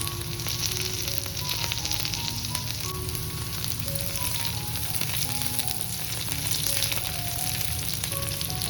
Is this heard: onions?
yes